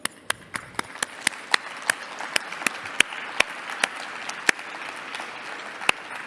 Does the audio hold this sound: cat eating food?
no